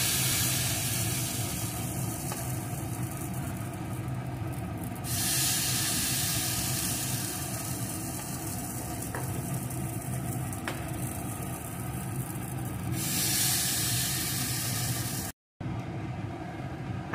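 Food frying in ghee on a tawa griddle gives a steady, close sizzling hiss that swells and eases, with no talking.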